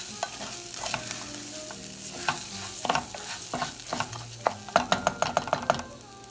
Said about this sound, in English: Now add semi-pearled farro. Toast it for about 2 to 3 minutes.